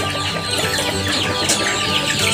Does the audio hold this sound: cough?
no